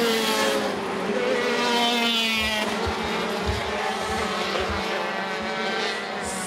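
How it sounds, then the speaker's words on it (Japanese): KZ class racing karts braking into a corner during a qualifying heat, a loud high-pitched engine wail that drops in pitch as they slow, with several engines blending together. "さあ5コーナーのブレーキングここでようやく橋本が飛び込んでいきますが止まりきれないか。"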